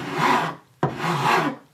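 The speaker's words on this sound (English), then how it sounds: "I have time to do a little bit of filing to kind of finesse everything in there" A rasp files wild cherry wood in two long, even strokes, each a loud, close scraping rub separated by a short pause.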